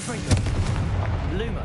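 A Confringo fire spell goes off in the Hogwarts Legacy game as a short, punchy blast followed by a crackling, whooshing tail, heard alongside game effects.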